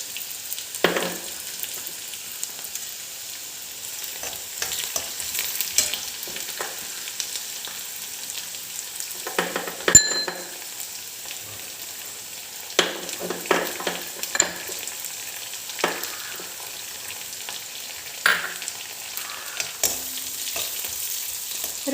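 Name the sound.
stirring garlic frying in a pan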